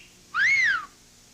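A single clear whistled note, rising then falling in one smooth half-second sweep, alone in a 1981 television commercial for the Just Whistle razor.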